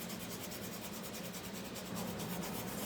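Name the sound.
light sanding of a wooden polar bear DIY kit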